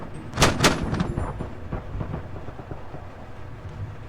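Gunfire in Arma 3 during a 1994 First Chechen War mission in Grozny: a couple of sharp, loud shots early on, then fainter scattered reports and rumbling battle ambience that carries on to the end.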